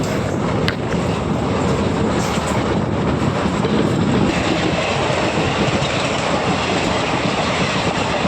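A Madurai–Punalur Express hauled by a WAP4 electric locomotive runs past in a loud, steady rumble of wheels and carriages that holds for the whole stretch, close by and with no voices.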